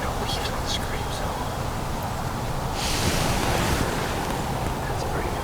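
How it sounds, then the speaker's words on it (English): Steady wind rushing outdoors with a soft gusty hiss, one stronger gust midway; faint murmuring voices under it. "It's been pretty windy."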